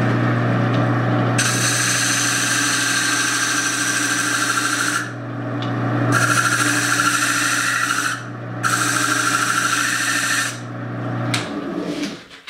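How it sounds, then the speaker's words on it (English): A hand scraper cuts a flange into the rim of a walnut box. The scraping comes as loud, sustained rasping strokes with short breaks between them, ending in a few small knocks. "So now I'm just going to use my scraper to make a flange."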